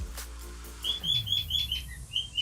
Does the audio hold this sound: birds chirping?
yes